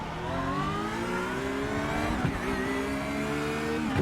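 A GT3 race car at Hockenheim climbing back up to speed after heavy braking, its engine note rising steadily through the gears with a brief blip midway, loud and close, no talk.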